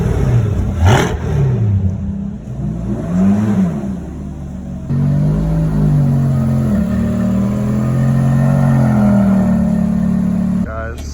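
Ferrari 430 and Corvette C8 engines idle and creep forward at low speed, a steady mid-range drone with brief swells, while people talk over it throughout.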